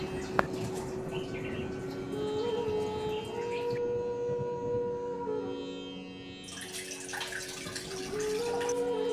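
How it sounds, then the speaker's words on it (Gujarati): Flattened rice (poha) is rinsed in clean water in a kitchen. Water drips and trickles steadily, with a brief louder splash, and faint birdsong chirps in the background throughout. "એક વાટકી પૌવા લીધા છે અને ચોખ્ખા પાણીથી આપણે ત્રણ ત્રણ વાર ધોઈ નાખીશું"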